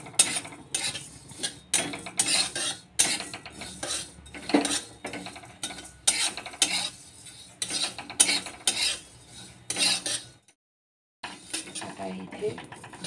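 Cumin, ajwain and fenugreek seeds roasting in a kadai, with repeated scraping and clinking of a spoon stirring against the metal pan in a steady rhythm, close up, broken by one brief pause.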